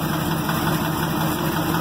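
A Ford F600 grain truck engine idles roughly in a steady, loud, continuous drone with an uneven mechanical texture, heard up close without talk.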